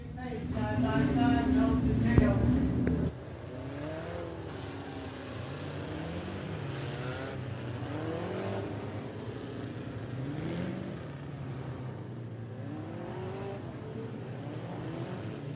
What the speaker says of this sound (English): Seven cars, eight laps here in heat race number two.